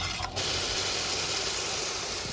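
Masala curry with added water simmering in a pan gives a steady, close hiss with faint bubbling that carries on unbroken, alone and without talk.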